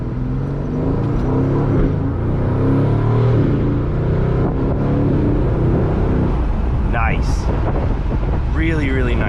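An Aston Martin DB11 V8 rumbles steadily from inside the cabin while driving, with a low throaty drone that holds even and a brief rising rev near the end.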